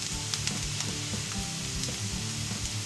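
Onion frying in a pan, a steady loud sizzle with some stirring scrapes over a low crackling rumble, close and continuous with no talking.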